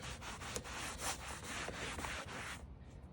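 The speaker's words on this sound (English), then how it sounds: "So once I buff that off, I'll kind of show the results." Rapid rubbing strokes of a cloth buffing excess detailing product off the interior of an E92 or F80 BMW M3, close and brisk with a rhythmic scrubbing pattern, ending with a short pause.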